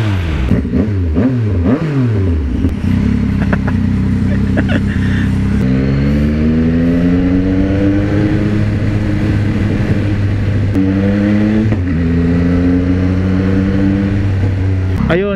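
A big bike on its stock exhaust revs repeatedly, its loud engine note climbing and falling in several strong pulls, close by, with a rough idle between bursts.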